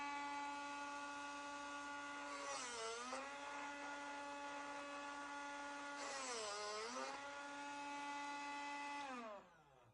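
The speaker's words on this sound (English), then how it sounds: "That's all there is to sharpening bits with Drill Doctor." A Drill Doctor 500 drill bit sharpener runs with a steady, loud motor whine, its pitch dipping and recovering twice as a bit is ground, then the motor winds down at the end.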